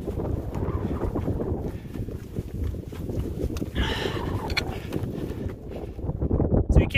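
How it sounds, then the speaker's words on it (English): Gusty wind on a mountain summit (Watchtower, Skyline Trail, Jasper National Park) buffets the microphone in a continuous rough rumble, swelling louder toward the end. "she's windy up here"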